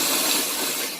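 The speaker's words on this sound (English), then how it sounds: "we grind all the Cheetos up in here into a nice dust" Cheetos ground into a fine dust, producing a loud, continuous, gritty grinding rasp over one second with no pauses and no talk.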